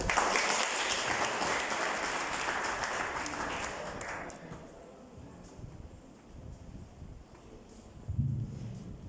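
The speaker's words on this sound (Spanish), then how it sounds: "Los recibimos con un fuerte aplauso." Dense crowd applause fills the first few seconds, then tapers off into quieter scattered noise with a low rumble near the end.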